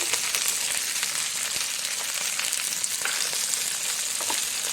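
Okra and chopped onion sautéing in a pan, a steady loud sizzle with occasional stirring scrapes, continuous and close with no voices.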